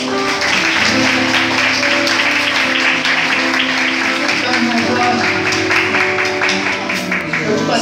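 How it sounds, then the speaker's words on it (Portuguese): Congregation at a church baptism service applauding, a dense and loud sustained clapping that fills the whole stretch with music tones underneath. "Dê mais um aplauso ao Senhor."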